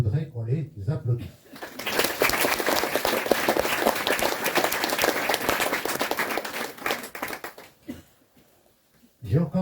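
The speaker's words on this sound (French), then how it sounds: "Et je voudrais qu'on les applaudisse." Audience applause at a regional heritage association's delegation handover ceremony, a sustained burst of many hands clapping for several seconds after brief speech, then fading out before talk resumes.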